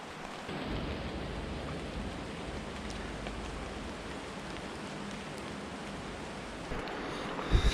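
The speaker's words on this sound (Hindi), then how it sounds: "बारिश होने लग गई है।" Rain falls in a steady, even wash of hiss along the walking route from Rishikesh to Kedarnath, fairly soft and unbroken, with a couple of closer taps at the end and no talking.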